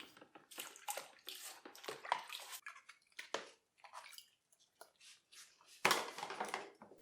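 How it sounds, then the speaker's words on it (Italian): A small brush scrubbing a kitchen strainer that is dipped again and again into a basin of water, giving irregular splashes, swishes and light scraping bursts, close up with no talking. "Uso una piccola spazzola e immergo più volte il colino nell'acqua."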